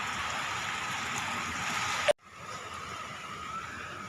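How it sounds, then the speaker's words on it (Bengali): Steady rain hisses on surfaces, then cuts off abruptly partway through and continues more quietly, with no voices. "বৃষ্টি পড়া শুরু হয়ে গেছে"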